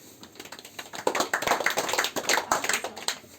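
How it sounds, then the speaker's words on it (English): Hand clapping in a classroom demonstration: after a quiet start, a scattered run of many sharp claps from several people rather than one, close and uneven, with no talking. "can you clap once?"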